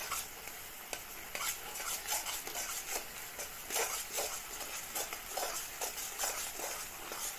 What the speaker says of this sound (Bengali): তো দেখতেই পাচ্ছ গাইস ভালো করে এগুলাকে নাড়াচাড়া করছি